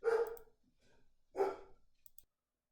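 A dog barks loudly twice, near and alone, with a short gap between the barks and faint muffled sounds in between.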